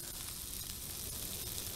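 Vegetable fried rice sizzles steadily in a RidgeMonkey Deep Fill Sandwich Toaster XL, producing a soft, continuous frying hiss at low volume with no voices.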